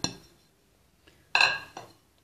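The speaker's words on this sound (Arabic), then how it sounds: "ونحرك، نتابع التحريك" A utensil stirring sponge cake batter in a bowl clinks against the sides: a faint tap, then a bright, ringing clink followed by a softer knock, close by and without talk.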